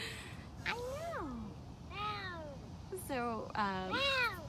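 An operant-trained big cat named as Simba, kept at a cat center, calls out in a series of long, wavering, rising-and-falling meows, fairly close, repeated about four times with brief gaps.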